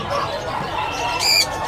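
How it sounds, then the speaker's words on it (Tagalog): A small talking parrot at a pet and livestock market gives one short, sharp squawk partway through, set against a busy background murmur. "Ayan po yung mga talking parrot natin na maliliit."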